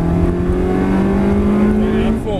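A Ferrari 360 Spider's engine holds a strong steady note as the driver feeds in gas through a manoeuvre, close and loud, its pitch rising gently before a brief dip at the end.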